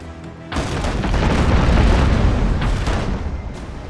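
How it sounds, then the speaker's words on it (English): Ship cannons fire and explosions boom in the naval video game Abandon Ship, a loud, deep rumbling blast that swells and sustains with overlapping bursts. "We're just gonna blow them up with cannons."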